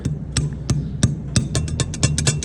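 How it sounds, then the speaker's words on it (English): Sharp metallic hammer strikes on a metal bracket ring out in a quickening series, about a dozen hits, close and loud over a low hum. "Precision hammer."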